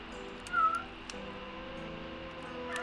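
A cat in the video game Regions of Ruin: Runegate gives a single short, fairly clear meow over quiet game background sound.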